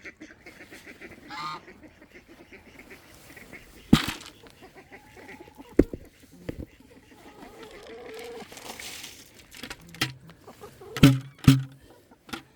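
Backyard ducks and chickens at a feeding spot make scattered honks, quacks and clucks, a few sharp loud calls among quieter sounds, some near and some farther off.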